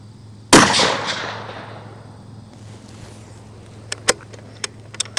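A Tikka .222 rifle fires a single loud, close shot while being sighted in. The blast decays over about a second into a quiet background, followed later by a few faint, sharp clicks.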